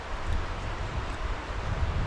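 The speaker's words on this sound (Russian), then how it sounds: "Речка журчит." Water babbles steadily in a river beneath a bridge, a continuous close wash of soft rushing noise with faint wind mixed in and no voices.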